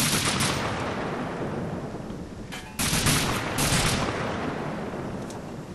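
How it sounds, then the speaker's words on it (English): Heavy machine gun fire in the wargame Combat Mission, a dense continuous rattle of distant automatic fire with short louder bursts cutting through, no voices. "Oh, heavy machine gun there."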